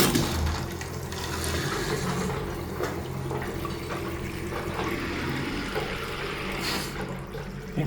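Water from a hose fills a tank in a customer's property after a jammed stop tap was freed, a steady, fairly quiet rushing and splashing flow heard throughout with no talking.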